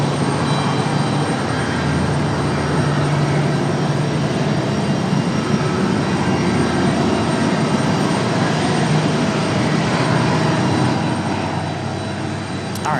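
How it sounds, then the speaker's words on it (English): An Airbus A350 departing Raleigh-Durham for Paris fills the air with a continuous, fairly loud jet rumble and hiss. The sound stays steady and unbroken, with no voices over it. "we'll turn things back up as a part of the departure of the A350 back to Paris"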